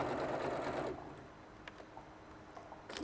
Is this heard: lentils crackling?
no